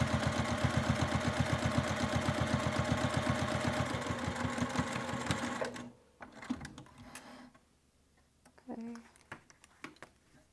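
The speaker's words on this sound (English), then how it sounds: "I'm going to sew 1/8 inch from that folded edge" A sewing machine top-stitching close to a folded fabric edge on a wristlet, running in a fast steady rapid needle chatter for several seconds, then stopping, followed by quieter handling clicks and rustles of fabric.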